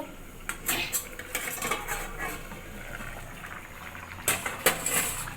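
Lid lifted from a pot of simmering desi chicken curry, with a few sharp metallic clinks and scrapes of utensils against the pot over a low background bubbling, close up and without talk.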